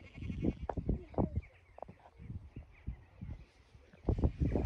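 Sheep bleating on a farm, several short bleats close by, with a child's and adult's voices and rustling between them.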